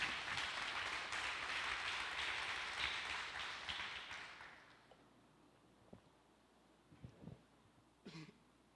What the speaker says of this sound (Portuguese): Dê um aplauso a Deus pelo que Ele fez aqui a semana passada